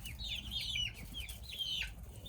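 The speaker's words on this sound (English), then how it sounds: "These are just little hatchlings we started in our incubator, and then we move them into here." Little hatchling chicks in a coop nursery beside a greenhouse on an Idaho farm give high, thin peeping chirps in quick repeated bursts over a low background rumble, fairly close, with no voices.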